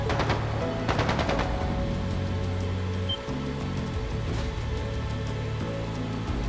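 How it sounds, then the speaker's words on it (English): Bursts of rapid gunfire crackle at the start in the video game Trails of Cold Steel II, followed by a continuous rumbling background with tonal game-like sounds; no talking. "That sounded like gunfire. That was gunfire."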